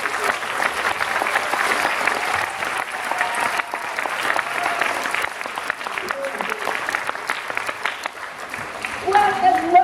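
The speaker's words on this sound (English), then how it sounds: "Let's have a nice, warm round of applause for Margie Hunt, the CEO of Special Olympics." Warm audience applause at the Nike Youth Games for the CEO of Special Olympics, a dense, sustained crowd clapping that stays loud and even for about ten seconds, with a voice breaking in near the end.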